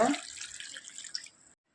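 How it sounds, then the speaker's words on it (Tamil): Water is poured from a small vessel into potatoes sitting in a cooking pot: a close, splashy pour that starts strong and thins out over about a second and a half, then stops. "ஒரு செம்பு தண்ணி சேர்த்துக்கலாம்"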